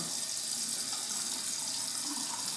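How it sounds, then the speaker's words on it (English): Tap water runs steadily over an Osma alum block being rinsed under a faucet, a continuous close hiss and splash filling the whole moment without pause. "now I'm going to rinse off the alum"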